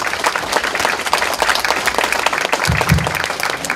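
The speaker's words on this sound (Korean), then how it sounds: "저자님도 박수를 부탁드립니다." Steady audience applause at a book concert for an author, loud and continuous throughout, with a low thump or voice briefly near the end.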